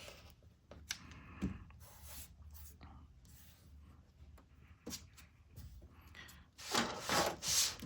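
Rotary cutter and ruler trimming a quilt block: quiet scraping and rubbing strokes with a few soft knocks, growing louder and more rasping toward the end, with faint talk at times.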